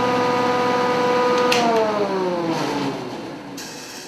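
A Grizzly jointer runs on its own with no dust collector attached, a steady mid-pitched motor whir with tones that slide downward as it spins down, loud and close with no talking.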